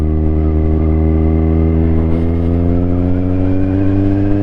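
Kawasaki Z1000R motorcycle running close by, its exhaust giving a loud, steady, deep engine drone with rich harmonics that rise gradually as the revs climb, no voices over it.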